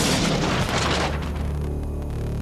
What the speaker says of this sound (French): C'est ce qu'on appelle une bombe.